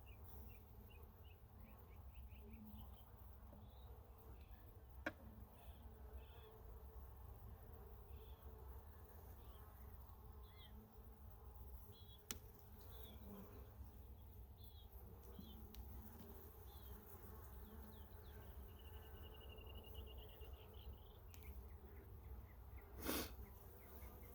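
Honey bees hum in a steady, continuous drone during a hive inspection, with small buzzing bursts of individual bees passing close and a few faint knocks.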